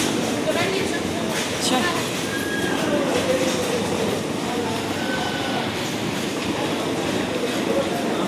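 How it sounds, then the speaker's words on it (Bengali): A train rumbles steadily into a station with rail noise and faint squeals, a broad continuous roar as it pulls in, with voices murmuring underneath. "এই দেখো আমাদের ট্রেন ঢুকে গেছে"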